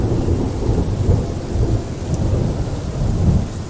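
Steady heavy rain with deep rolling thunder rumbling underneath, a dense continuous ambience built as a layered sound effect, loud and close throughout with no voices.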